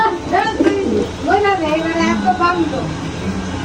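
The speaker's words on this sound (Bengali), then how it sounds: "এই যেটা এখানে কবুতর আছে" Pigeons with young and eggs in a home loft coo in low, repeated warbling phrases, close and fairly loud, mixed with a man's speech.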